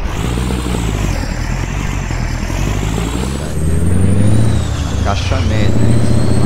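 Peterbilt 351 truck in American Truck Simulator rumbling steadily with a low engine drone, then a shift at about three and a half seconds brings a louder, deeper pull and a brief hiss like an air release near the end.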